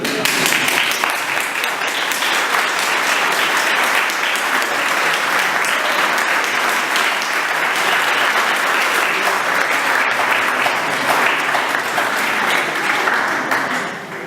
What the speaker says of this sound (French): Et maintenant, ils se donnent un gros bisou pendant qu'on les applaudit.